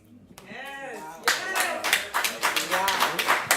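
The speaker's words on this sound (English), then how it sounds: "Give them another round of applause." A church crowd bursts into hearty applause after a few voices. The dense clapping swells and carries on steadily, with some cheering mixed in.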